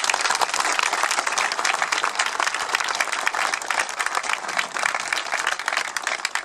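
An audience at the inauguration of an extension to Atelier Quillet in Loix applauds the workshop craftsmen with a continuous, dense wash of clapping from a sizeable crowd.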